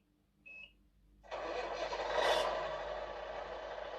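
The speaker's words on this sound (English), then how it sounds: "start the engine." A GT Power light and sound system fitted to a model container truck plays a simulated engine start: a short electronic chirp, a brief pause, then a cranking surge that settles into a steady, quiet idle.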